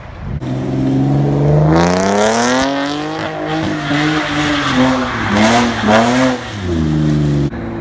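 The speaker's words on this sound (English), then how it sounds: "He's drifting with an open diff, by the way." A car with an open differential drifts at a drift event. Its engine revs loud and close, and its tires squeal in long sweeping slides that rise and fall in pitch before the sound cuts off.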